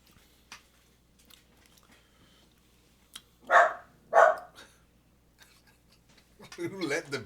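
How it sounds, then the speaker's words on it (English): A dog in a quiet room barks twice in quick succession, loud and close, before a voice starts speaking. "Is that your dog?"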